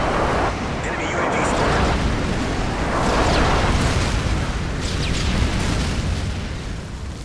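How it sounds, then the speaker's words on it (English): Airstrike explosions in a first-person shooter game form a loud continuous roar of overlapping booms and rumbling blasts lasting several seconds, with faint voices mixed in. "Friendly airstrike on the way."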